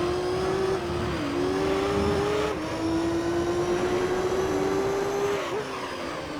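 Nissan GT-R race car engine from Gran Turismo Concept on the Autumn Ring II circuit, a steady high-revving drone with pitch shifts at gear changes, loud and continuous throughout.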